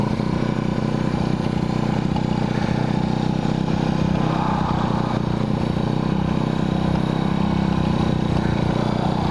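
A 1981 Yamaha XS400 Heritage motorcycle engine runs steadily, a loud, continuous low rumble and drone heard close up, without clear revving.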